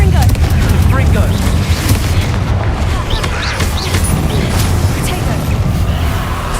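A fire spell explodes with a loud, sustained booming roar in the Hogwarts Legacy video game, heavy rumbling blasts dominating throughout while a voice shouts the spell's name over them.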